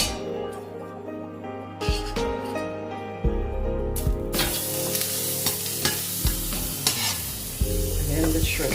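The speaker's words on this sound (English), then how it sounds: "I'm going to be adding 1 teaspoon of rice bran oil, a little bit of butter," Rice bran oil and butter sizzle in a pan for curried king prawns, a loud, close frying hiss that swells after a few clinks, with repeated spoon taps and stirring knocks over the steady crackle.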